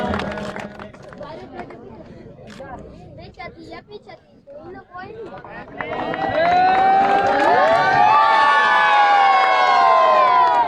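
An announcer speaks over a murmuring crowd at a tape-ball cricket tournament final in Mardwal, Pakistan. Then the spectators erupt into loud, sustained cheering and shouting that fills the second half.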